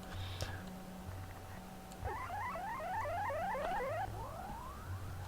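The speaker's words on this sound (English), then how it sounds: "Then you get your game over sound" A video game over sound: a quick series of descending electronic chirps plays over a looping low synth tune, like a short arcade-style jingle.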